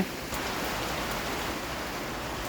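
Steady rain falling outdoors where a worker is patching and sealing a spot, a continuous even hiss of drops with no pauses and no voices.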